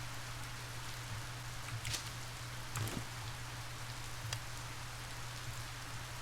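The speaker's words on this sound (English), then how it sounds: "I like that it's raining." Steady rain falls in a survival crafting video game, a soft, even hiss of drops with a few brief taps and clicks over it.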